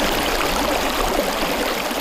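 The Pine River flows past a quiet village among rolling hills, a loud, steady rush of water with a bright, bubbling hiss and no voices over it.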